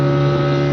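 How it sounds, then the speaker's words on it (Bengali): A fishing trawler's engine drones loud and steady as the boat comes in, a brief, even, low mechanical hum. "দেখো না ভাই ট্রলারটা ঢুকছে"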